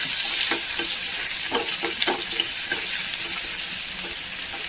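Chopped onion, green chillies and curry leaves sauté in a pan with a steady bright sizzle, broken by a few soft stirring scrapes, close and continuous with no talking.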